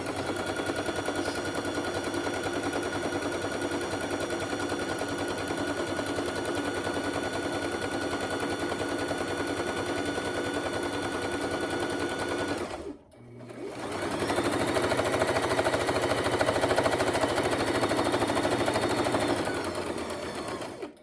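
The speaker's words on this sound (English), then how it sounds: "We're going to pivot again and sewing all the way down our next side." A sewing machine stitches a pillow form in a fast, even rattling run, stops briefly as the fabric pivots, then resumes stitching steadily down the next side, close and alone.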